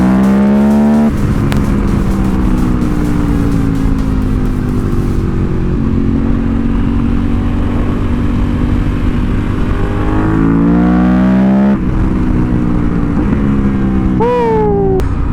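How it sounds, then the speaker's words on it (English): A 2018 KTM 1290 Super Adventure R's LC8 engine, around 160 horsepower, drones loudly and continuously while riding, its pitch rising and falling through gear changes, with rushing wind noise and a voice talking underneath. "this bike is powered by KTM's LC8 engine that puts out right around 160 horsepower"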